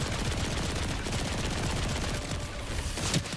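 Rapid, dense gunfire in the video game Path of Exile, a steady crackling barrage of shots running continuously and loudly without pause, with no talking over it.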